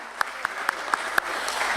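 Applause at a stock exchange listing ceremony, with steady clapping under a sharper, evenly spaced series of claps standing out close by.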